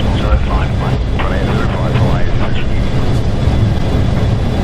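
A Boeing 727-200 in a flight simulator runs its engines at takeoff power, giving a loud, steady roar that fills the whole clip. Cockpit voices talk over it throughout.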